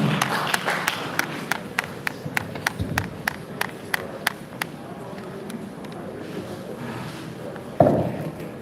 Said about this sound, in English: Please, a round of applause for our guest speaker.